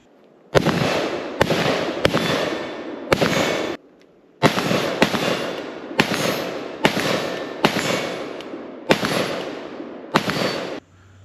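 Nine loud gunshots from an IWI ACE 5.56 pistol fitted with a blast director, fired close in an uneven series with short pauses, each shot sharp and ringing briefly before the next.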